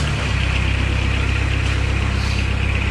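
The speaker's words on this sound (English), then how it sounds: "Now we're going to fire this Kubota to life." Kubota engine on a 2014 Moffett M55 truck-mounted forklift running steadily after starting, a loud, even low diesel rumble with constant vibration throughout and no voices.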